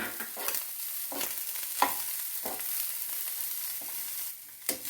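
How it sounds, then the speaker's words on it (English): Curry leaves, grated coconut and shallots roast in a pan for a prawn gravy, giving a continuous soft sizzle broken by repeated scraping stirs at fairly regular intervals. "Let us roast the ingredients."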